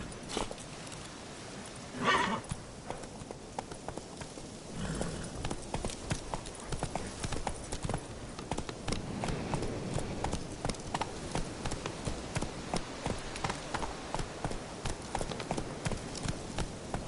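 Roach, the horse from The Witcher game, gallops with rhythmic hooves that pick up into a steady pounding beat, mixed with a brief whinny early on and a busy layer of game sound around it.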